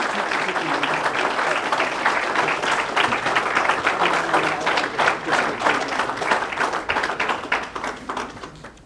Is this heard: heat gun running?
no